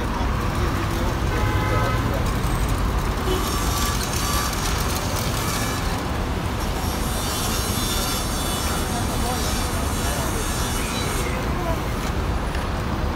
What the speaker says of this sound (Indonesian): ini bis-bis ya